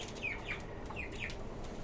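Chickens and a rooster kept in cages on a rooftop farm of Tiger and local desi breeds give several short, bright clucks and calls, fairly faint against a steady background hiss.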